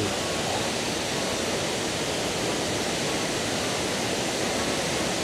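Kuang Si waterfall in Laos, a dense, steady roar of falling water filling the whole clip with no breaks.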